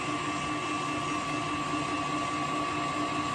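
An electric mixer beating a lemon butter mixture, a steady unbroken whirring motor drone with a constant high whine, close and fairly loud, with no talking.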